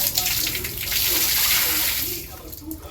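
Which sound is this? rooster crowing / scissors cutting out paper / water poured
water poured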